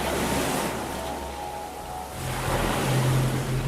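Stormy ocean waves surge onto a windswept coast, a steady broad roar of surf that swells louder toward the end, with wind noise buffeting the microphone.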